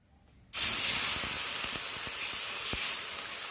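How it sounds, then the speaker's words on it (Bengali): Water poured into a hot frying pan that was just used for frying fish bursts into a loud, sudden sizzle and hiss, settling into a steady steaming roar with faint crackles as it starts to boil. "কড়াইতে জল দিয়েছি আর জল ফুটতে শুরু করে দিয়েছে"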